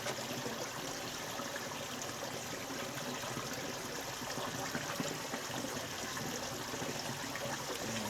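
Water poured onto a silver birch seedling in akadama soil makes a steady, close trickling and splashing that runs evenly throughout without pause.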